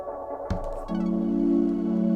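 A sharp tone repeats and rings on as a sustained, echoing drone that swells steadily rather than fading, from an SP-404 MK2 delay effect at 100% feedback.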